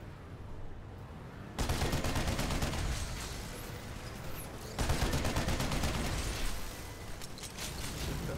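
Rapid automatic cannon fire from a Liberator gunship in PlanetSide 2, sustained loud bursts with a brief pause near the start and another break midway, continuous dense firing throughout.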